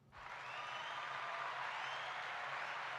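Steady, fairly faint applause runs continuously, like quick hand clapping heard from a distance or at low level, with no voices over it.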